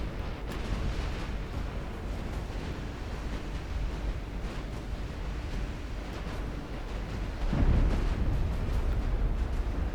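Battleship guns firing in a naval battle video game, a continuous heavy rumble of booming shots and distant blasts with one louder, deeper impact near the end.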